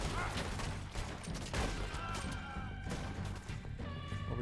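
Gunfire in the Red Dead Redemption 2 video game, a dense volley of overlapping shots and cracks throughout, with voices under the shooting.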